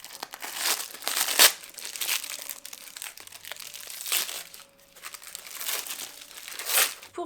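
Packaging of books and stationery being unwrapped up close, with repeated bursts of crinkling and crumpling plastic and paper and brief tearing sounds separated by short pauses.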